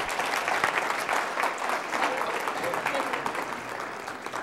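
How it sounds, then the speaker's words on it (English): An audience applauds after a mock arbitration role-play at a real estate professional standards session, a steady sustained round of clapping from a room full of people with a few voices mixed in. "Give her a round of applause."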